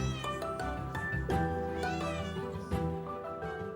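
A female cat meows repeatedly in drawn-out, close, fairly quiet calls, one after another with no talking.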